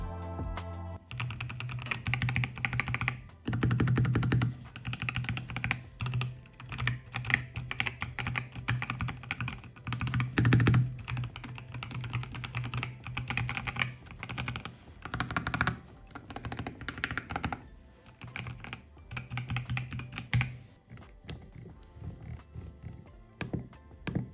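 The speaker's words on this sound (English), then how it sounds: "so you can hear the sound that the keys make" Steady mechanical keyboard typing on an official DayZ keyboard, close and clear, a continuous patter of key clicks with brief pauses and a low hum underneath.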